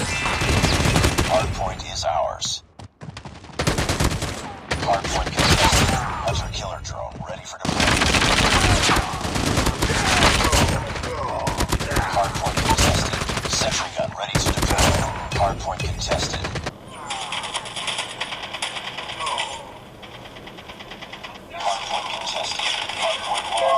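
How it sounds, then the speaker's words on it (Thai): Rapid gunfire and explosions from a mobile shooting game played on a Vivo Y20S smartphone, loud and nearly continuous bursts with brief pauses, shifting to a quieter, steadier game sound near the end. "โอ้โหยิงกันตุ้มตั้มตุ้มตั้มเลย"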